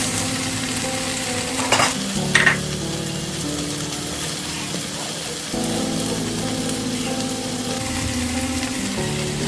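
Carrot and leeks stir-frying for spicy kottu mee noodles, a steady close sizzle with a few sharp scraping stirs early on and a brief dip before the frying noise swells again.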